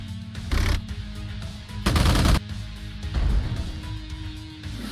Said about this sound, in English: I think I should use the tank to destroy this guy